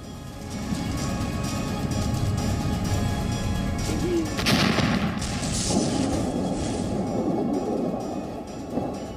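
Missile attack explosions in Kyiv at night: a continuous, loud, low rumble with heavier blasts and crashing bursts rising out of it, with no talk.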